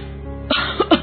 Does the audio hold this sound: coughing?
yes